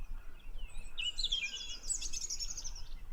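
Small bird chirping at dawn at sunrise: a run of thin, high, rapid twittering notes over a low background rumble, no talk.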